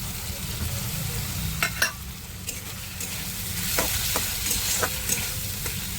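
Cumin and garlic paste going into a hot frying pan, with a steady sizzle, scattered clinks and scraping stirs, for ghugni.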